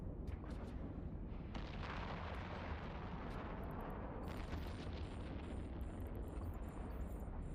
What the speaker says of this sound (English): At the moment I'm firing javelins.